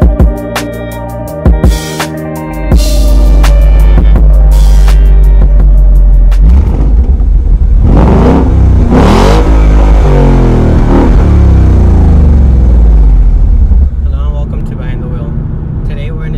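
A 2015 Ford Mustang GT with the 5.0 V8 and performance package, its engine loudly revving in several sharp bursts before settling into a sustained roar, close by, with a voice talking over it.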